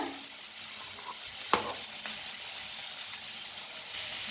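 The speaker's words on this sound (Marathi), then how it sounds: "आता ह्याच्यातच घ्यायचा आहे कांदा भाजून, टमाटो बी ह्याच्यातच टाकायच्या, मिरच्या बी लाल" Onion, tomato and red chillies roast in a pan, giving a steady close sizzle with a sharp tap of a utensil against the pan partway through and faint stirring scrapes after it.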